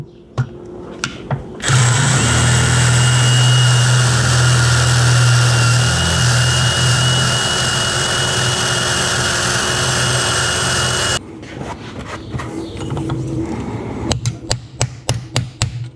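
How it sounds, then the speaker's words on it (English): A drill grinds the head off a bolt on a Yamaha AT2 125 enduro engine, a loud steady whine of about nine seconds bracketed by taps and knocks before and after. "We just drill the head off and then deal with it when the cases come apart."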